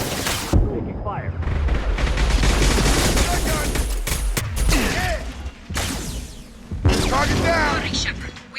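Gunfire and explosions crackle through a Mass Effect 2 firefight, loud and dense with repeated shots and booms that break off briefly, while voices call out over the combat.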